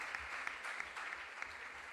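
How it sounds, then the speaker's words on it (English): Brief, fairly quiet clapping from a school audience at a junior science and maths quiz regional qualifier in the Ashanti Region, with a few sharper claps standing out over a steady patter. "A round of applause for Emmanuel."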